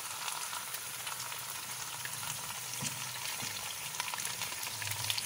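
Mutton pieces fry in a pan with a yogurt mixture, giving a steady, fairly quiet sizzle and crackle throughout, with a few soft low bumps. No voices.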